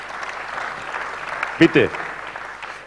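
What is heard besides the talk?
audience applause at roofers' championship award ceremony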